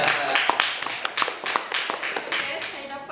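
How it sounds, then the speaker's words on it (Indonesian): A small group claps together indoors in a burst of clapping mixed with voices, the hand claps sharp and uneven, continuing throughout without tapering off. "Kita bagi tepuk tangan sikit."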